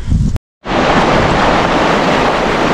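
A steady rush of the Uttar Ganga river flowing near Dhorpatan fills the air, loud and close, broken by a short moment of silence near the start.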